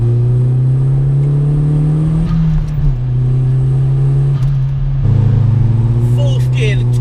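A VW Polo 6N2 with a swapped-in 1.8 turbo engine making about 220 bhp, accelerating in fourth gear, heard from inside as a loud steady engine drone that climbs in pitch, dips briefly at a shift, then pulls again.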